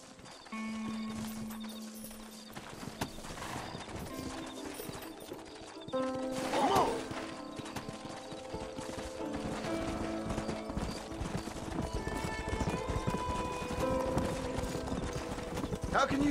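Steady hoofbeats of galloping horses in Red Dead drum throughout, with a horse whinnying partway through over a layered game soundtrack and brief voices.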